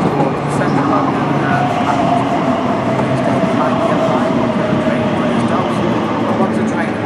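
A train pulls into the platform at Custom House station with a steady, loud rumble and rolling wheel noise throughout, as a voice announcement plays over it.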